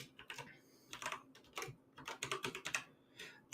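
Quick, uneven bursts of clicking keys on a computer keyboard, typed in short flurries with brief pauses between, close and fairly soft, with no voice over them.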